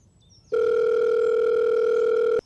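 A steady electronic telephone tone sounds loud and close for about two seconds, starting abruptly and cutting off sharply, like an incoming call signal on the line.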